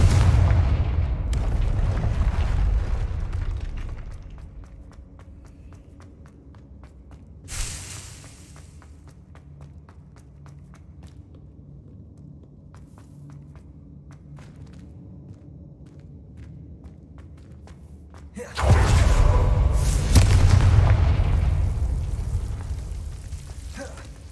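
Confringo fire-spell blasts in the video game Hogwarts Legacy give a heavy rumbling boom at the start and another near the end, with a short sharp pop and a quieter low drone in between.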